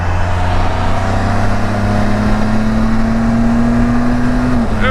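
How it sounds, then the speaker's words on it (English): A Can-Am Spyder three-wheeled motorcycle merges onto a highway, its engine holding a loud steady drone that climbs slowly in pitch, mixed with strong wind rush and road noise. "There we go, merging on the highway on a Can-Am Spider"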